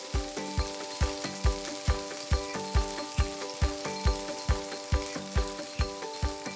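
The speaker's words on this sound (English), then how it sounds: "The butter is starting to sizzle," Several tablespoons of butter sizzle in a pan over medium-high heat before a beef tenderloin is seared, with a steady crackle and a regular pattern of soft knocks, close and fairly quiet.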